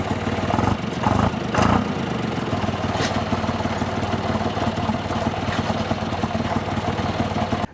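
A John Deere 2155 tractor engine rumbles steadily at idle after a few sputtering bursts as it starts, running close and loud throughout.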